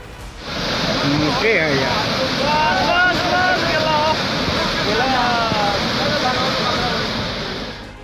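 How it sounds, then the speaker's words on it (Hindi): Roaring floodwater from the swollen Bagmati and Lal Bakaiya rivers after their embankments broke, a loud, steady broadband rush that fills the whole stretch, with faint voices heard beneath it. "पहले उफान पर आई बागमती नदी और लाल बकैया नदी का शोर सुनिए।"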